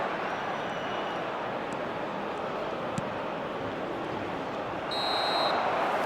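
A referee's whistle blows one sustained shrill blast ending the first half of an international friendly football match, rising over a steady roar of stadium crowd noise.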